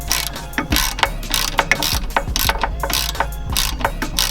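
A hand ratchet clicks rapidly and steadily while tightening the bolts on an LS400 big brake kit rotor being fitted to a Lexus IS300, the close, bright ratcheting strokes repeating in short bursts throughout with no talking.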